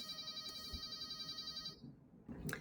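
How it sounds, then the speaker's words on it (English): A mobile phone ringtone repeats in steady pulses, fairly quiet, then cuts off abruptly, leaving near silence before a faint brief knock. "Sorry about that, my phone rang."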